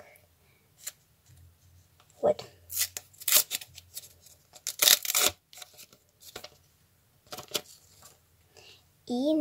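A paper surprise packet is torn open and unwrapped up close in sharp bursts of crinkling and rustling, with quiet pauses between, and someone speaks briefly at the start and end.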